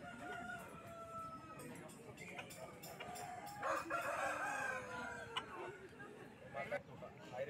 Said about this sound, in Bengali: দুর্দান্ত মোরগটা, অনেকটা হাইট, 4 কিলোর কাছাকাছি ওজন